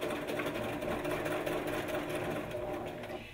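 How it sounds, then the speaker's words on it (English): A sewing machine stitches a 5/8 inch seam allowance at normal stitch length, a continuous close, even rattle of the needle mechanism running throughout without pause or voices. "I'm going to just change my stitch length back to normal and stitch a 5/8 inch wide seam allowance"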